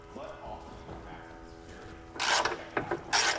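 Ratchet wrench with an 18 mm socket on a long wobble extension loosening bumper nuts on a 2022 vehicle during a base plate install, soft clicking then louder rapid ratcheting bursts close by.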